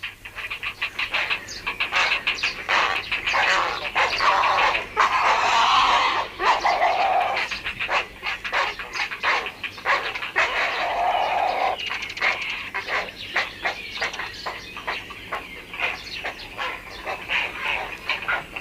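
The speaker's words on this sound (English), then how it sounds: "I think all this noise is because the young are being fed." A loud, continuous clamour rises from a heronry as young herons are fed, with harsh overlapping calls and rapid clattering pulses filling the whole stretch.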